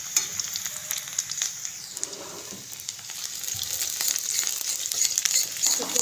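Chopped onions fry in a pan for a potato-and-egg curry, a steady close sizzle with scattered crackles and occasional stirring scrapes, no voices.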